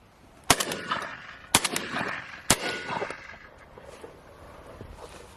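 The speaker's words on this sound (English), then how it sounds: "I shot over a cover strip using a Beretta A400 semi-auto" A Beretta A400 semi-automatic shotgun fires three loud, sharp shots about a second apart while shooting over a cover strip outdoors, each blast followed by a fading echo and faint field ambience.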